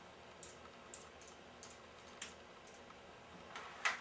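Sparse, faint clicks of keys as a password is typed on an external computer keyboard connected to a Mac notebook, about eight soft taps at uneven intervals with a slightly louder click near the end.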